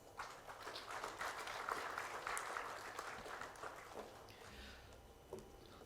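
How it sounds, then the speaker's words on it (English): An audience at an offshore industry conference gives a round of applause for a speaker, with moderately loud, dense clapping that gradually thins and fades over several seconds. "please welcome Mr. Nanang Abdul Manaf with a big round of applause"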